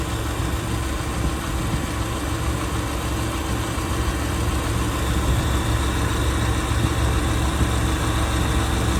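A motorcycle engine idles with a steady, dense mechanical rattle from a clutch spinning with excessive clearance, close and unchanging throughout, with no talk.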